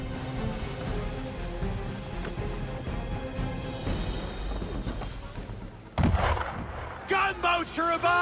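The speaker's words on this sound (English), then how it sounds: "Gunboats are above! Why is he shooting at us?" Gunboats fire cannons in the video game Assassin's Creed III, with a rumbling barrage and sharp booms amid ship noise, followed by loud shouting voices near the end.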